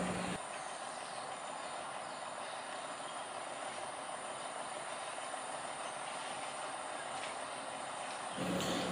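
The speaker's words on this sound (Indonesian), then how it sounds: "lokomotif ataupun lori yang membawa rel portable tidak anjlok." A sugar cane railway locomotive runs over portable track through fields, producing a constant loud rolling rumble and hiss with faint wheel squeals, and no voices present.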